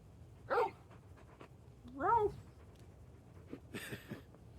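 Large dog in Final Fantasy XVI makes short whining and yipping vocal bursts with soft breathy noise in between, fairly quiet against a low game background.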